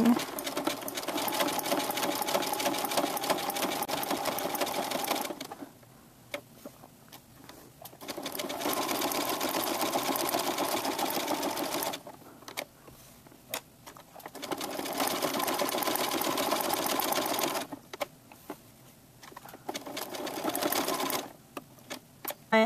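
A sewing machine stitches appliqué fabric in loud, rapid runs of needle chatter, stopping briefly several times as the fabric is turned, then starting again, close up and without talk.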